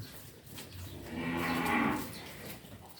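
Peranakan Ongole cattle in a pen give one long, drawn-out moo that swells and fades over steady barn background noise.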